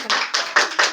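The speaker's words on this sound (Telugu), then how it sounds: "అందరూ క్లాప్స్ కొట్టండి" Four quick bursts of hand clapping in an even rhythm, close and fairly loud, from people gathered at a cake cutting.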